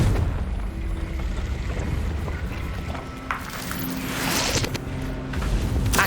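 Confringo, the blasting spell in Hogwarts Legacy, sets off a loud, rumbling explosion with a rushing, crackling burst toward the end, heavy low boom throughout and no talk over it.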